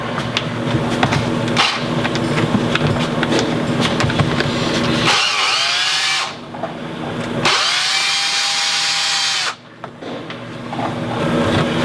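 A power drill backs screws out of an old dishwasher. Busy mechanical clatter gives way to a steady motor whine that runs for a few seconds, then the clatter returns.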